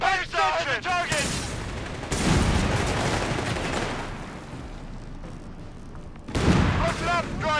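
Tank cannon and gunfire from a Panzer in the battle game Company of Heroes 3, loud repeated blasts and rumbling battle noise between bursts of in-game voice chatter at the start and end.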